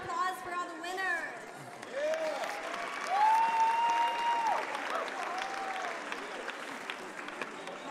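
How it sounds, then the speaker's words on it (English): An audience at a school showcase awards night claps for the winners, a sustained wash of applause with a few whoops and a voice cutting through at the start. "Can we get one more round of applause for all the winners?"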